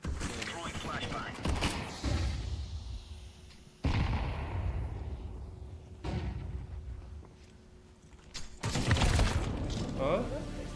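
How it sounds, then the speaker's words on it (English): Flashbang grenade thrown in a video game, with several sharp bursts and bangs at intervals amid game noise, while players talk over it. "Throwing flashbang."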